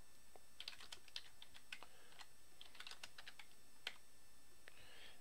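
Close, quiet typing on a computer keyboard while entering commands in a command prompt, irregular clusters of crisp key clicks alone over faint background hiss.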